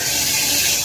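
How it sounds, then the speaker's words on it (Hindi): Water pours steadily into a rooftop water tank, a continuous loud rushing gush with no break. "पहले अपनी टंकी चेक करूँ पानी भरा है कि नहीं"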